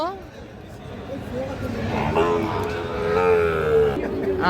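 Sahiwal bull calves mooing loudly up close at a cattle market, a long drawn-out low bellow, with people talking in the background.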